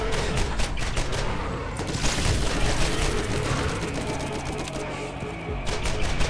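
Rapid gunfire rattles on in the PC shooter Borderlands as bursts of sharp shots crackle dense and loud over continuous combat noise, with a voice briefly underneath.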